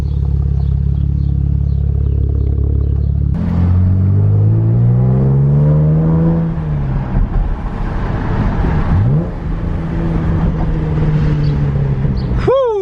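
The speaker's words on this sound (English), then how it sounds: "There's the aftermarket exhaust." A car with an aftermarket exhaust idles with a deep rumble, then revs up loudly through its exhaust, dropping and climbing again in several throaty pulls.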